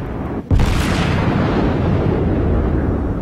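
Naval guns firing in the World of Warships video game: one sudden, heavy boom that rolls into a long, loud rumbling roar and stays high for the rest of the moment.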